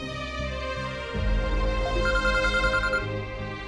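A phone rings in a quiet indoor scene, a repeating electronic ringtone sounding close and clear over soft background music for a few seconds.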